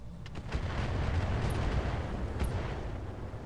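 Artillery firing in the Roguetech video game, a sustained heavy rumbling barrage of booms rolling together for several seconds at steady loudness, with no talking.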